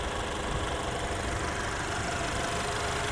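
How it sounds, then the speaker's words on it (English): A 2023 Alfa Romeo Giulia Estrema's 2-liter turbocharged four-cylinder idles steadily, a constant even hum and vibration with no voices. "This has a 2-liter turbocharged 4-cylinder."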